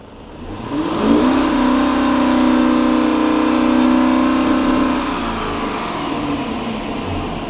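A Dodge Hellcat Hemi V8 revs up and holds a steady high drone near 3,500 RPM for a few seconds, then drops back to idle; loud and close, with no talking.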